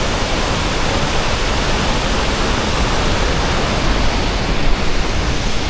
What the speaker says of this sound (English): Is this huge waterfall.